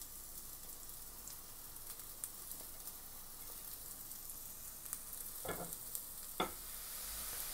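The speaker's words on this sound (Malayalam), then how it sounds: "ചട്ടിയിലേക്ക് ഞാൻ കറിവേപ്പിൻ്റെ ഇലയും ഉള്ളിയും ചേർത്ത് കൊടുക്കണേ." Curry leaves and onions sautéing in a clay pot for a fish and mango curry, giving a faint, steady sizzling hiss broken by two brief stirring scrapes near the end, with no talking.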